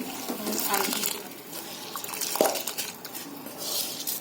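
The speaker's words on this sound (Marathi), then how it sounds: "हे तांदूळ घालते त्याच्यामध्ये उकळी आली" Wet clattering and splashing as soaked rice is poured into a pot of boiling water for vegetable dum biryani, with a clink of metal partway through.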